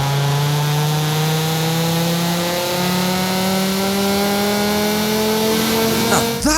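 A stock Volvo estate at full throttle in Forza Horizon 5 gives a loud, continuous engine roar whose pitch climbs steadily, briefly dips as it shifts, then keeps rising, with no speech.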